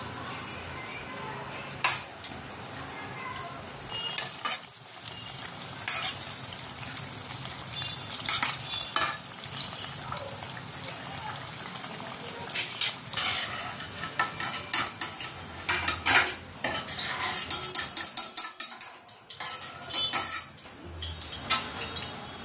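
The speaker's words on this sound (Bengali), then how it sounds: "এই যে ভাজা হয়ে গেছে পেঁয়াজি" Onion fritters (peyaji) frying in oil while being stirred, a constant sizzle punctuated by repeated metallic scrapes and clinks of a utensil against the pan, close and fairly loud, no speech.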